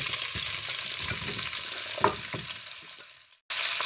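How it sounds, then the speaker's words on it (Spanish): Vegetables sizzle steadily as they are sautéed in oil left over from browning beef cheeks, with a few stirring clicks before the frying fades and cuts off. "Y en el mismo aceite agregamos los vegetales"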